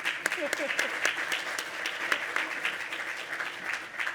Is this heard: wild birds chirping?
no